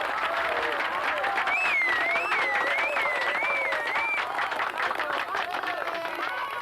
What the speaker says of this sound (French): Applaudissez-le, il l'a bien mérité.